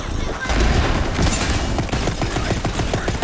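Rapid bursts of gunfire in the video game Borderlands 3, loud and dense volleys of shots crackling one after another with a game soundtrack rumbling beneath.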